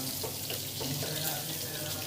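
Water is added to a cooking pot while making a home-cooked maligoso dish with softened tomatoes, heard as a steady, close running and splashing hiss that continues without a break.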